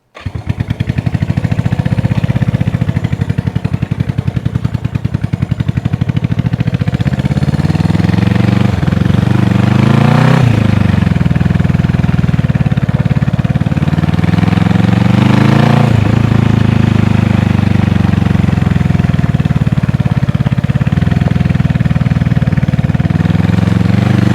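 A Honda CB360 motorcycle engine runs loud and close throughout a ride, a steady rumbling drone that rises and falls as the rider revs and shifts through gears.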